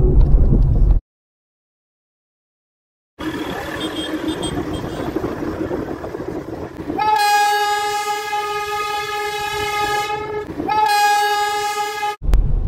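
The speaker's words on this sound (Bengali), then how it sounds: "চলছে, ট্রেনটা চলছে" A train rumbles past in West Sikkim with steady mechanical noise, then a long, loud horn blast sounds twice, broken by a brief pause, after an initial stretch of silence.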